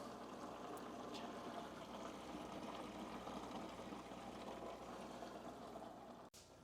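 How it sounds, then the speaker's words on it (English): Blueberry American wheat beer wort pours steadily into a fermenter during a 10-gallon brew day transfer, a continuous close rushing and splashing of liquid that holds even throughout, broken by a brief clunk near the end. "Transferring into the fermenter."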